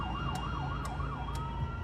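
A West Midlands ambulance siren wails in a steady rising-and-falling pattern as the crew arrives on scene, heard over a constant low engine rumble with faint repeated clicks, no voices.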